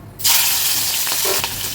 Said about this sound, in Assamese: মাছ ভজা তেলতে দিলোঁ মই এতিয়া জলকীয়া